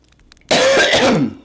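A single short, rough cough, close and loud, rising abruptly after a moment of quiet and lasting under a second.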